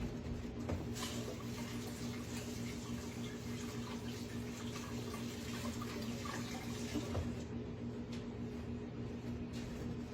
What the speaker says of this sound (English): Let me rinse my hands in it.